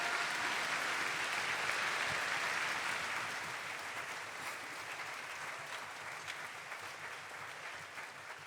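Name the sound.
audience applause at school assembly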